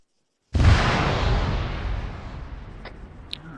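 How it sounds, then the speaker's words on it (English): A big explosion in the video game ArmA 3 erupts as a single sudden, loud blast with a deep rumbling tail that slowly fades, followed by a few faint distant pops. "It's gonna be a big explosion."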